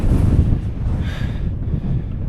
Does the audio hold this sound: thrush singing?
no